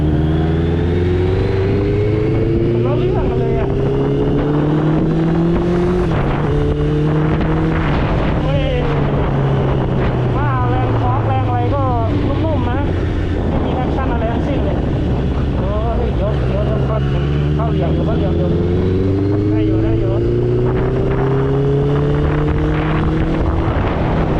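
A Honda CBR650R motorcycle runs continuously and loud, with engine pitch swelling and falling as it speeds up and eases off, plus wind rush, while a rider talks over it.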